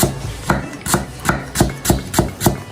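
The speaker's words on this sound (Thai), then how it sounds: "เริ่มจากหั่นตะไคร้เลยครับ" Knife chopping through lemongrass on a board, seven crisp evenly spaced cuts with a steady rhythm, close and fairly loud.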